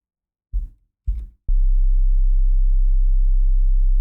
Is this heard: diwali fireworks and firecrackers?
no